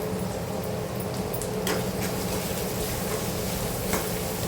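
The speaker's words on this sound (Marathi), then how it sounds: "कांदा व्यवस्थित आपण परतून घेऊया" Onions sautéing in a pan with asafoetida and curry leaves give a loud, constant dense sizzle, with a few soft spatula scrapes over it.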